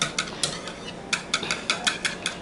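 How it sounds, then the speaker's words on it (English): Eggs being whisked in a bowl for Southern-style cornbread batter, a quick run of light metallic clicking and tapping strokes, close and fairly loud, in an uneven rhythm. "I get my whisk and break them eggs up"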